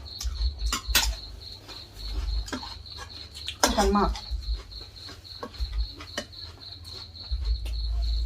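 Steady, high-pitched cricket chirping runs throughout, with a voice speaking briefly and occasional clinks and knocks nearby.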